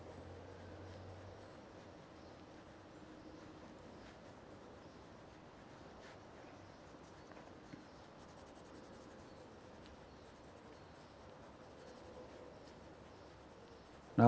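Soft, continuous scratching of a pencil on paper, faint and steady, with quiet strokes running throughout.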